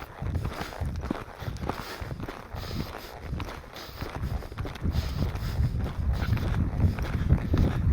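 A horse lopes outdoors, its hoofbeats a close, irregular rhythmic thudding over ground under a breezy background, with no speech.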